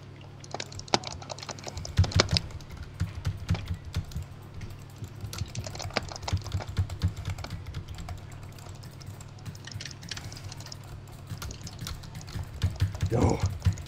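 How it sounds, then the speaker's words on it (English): Rapid, dense keyboard clatter as keys are hammered during a video game, a steady stream of clicks running through the whole stretch with a low hum beneath and occasional voices. "Spam the keys!"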